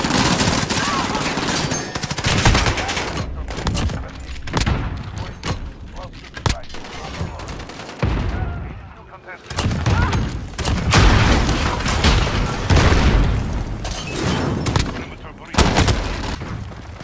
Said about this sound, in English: entire team shooting at me